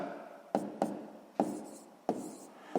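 Handwriting a calculation for a sixth-grade math exercise, a handful of distinct tapping strokes of pen on paper, close and fairly quiet, with no talk.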